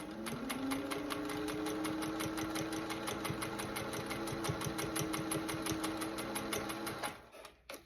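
A vintage Singer 201 sewing machine stitches a tube neckband onto a blouse neckline, running at an even, rapid, close-up chatter for several seconds before stopping near the end.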